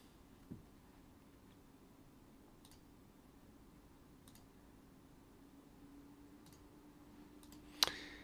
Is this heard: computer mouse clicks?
yes